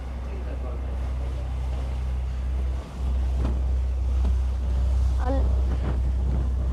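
Wind on a Helsinki ferry ride buffets the microphone as a steady, loud low roar over a deep engine hum, while a person talks faintly underneath.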